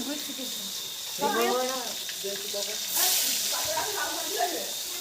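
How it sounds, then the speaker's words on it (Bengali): Vegetables frying in hot oil for khichuri during a Lakshmi puja, a faint steady sizzle and hiss running under talking nearby. "এই লক্ষ্মী পূজার খিচুড়ির জন্য এই যে আজকে সবজিগুলো আমরা ভাজা নিচ্ছি।"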